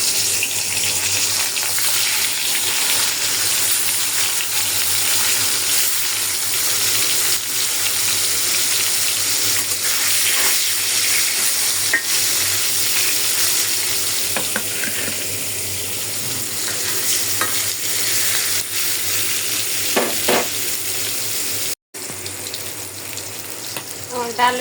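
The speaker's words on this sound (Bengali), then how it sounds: "এখন মাছটা ভাজা ফেলি।" Fish fries in hot oil in a wok, a loud, dense, continuous hiss that holds steady for the whole stretch, broken only by a brief dropout near the end.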